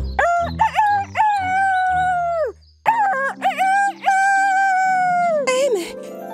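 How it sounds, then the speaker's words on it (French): Rooster crowing in a French children's story, two long loud cock-a-doodle-doo calls up close, the second trailing off into a downward squawk, with brief clucking between them. "Soudain, un coq sauta sur sa tête et se mit à chanter."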